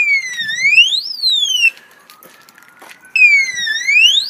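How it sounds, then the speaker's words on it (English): Anti-tamper alarm of a remote-controlled parking bollard: a loud electronic siren with rising and falling whoops, sounding for about a second and a half, cutting out, then starting again, up close. "push the bar and the alarm goes off"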